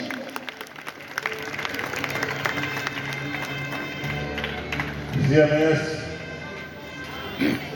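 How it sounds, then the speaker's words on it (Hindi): A crowd at a school's annual function claps to welcome a minister, with scattered applause continuing underneath an amplified voice and some musical tones, swelling briefly near the end. "आइए माननीय मंत्री जी का स्वागत हाथ उठाकर के ताली बजा करके कर दीजिए। जोरदार तालियों के बीच"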